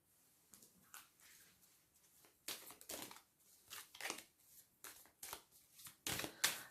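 Tarot cards handled and laid out on a table during a reading, a series of short papery swishes and slaps in irregular bursts, close and fairly faint, with no talk.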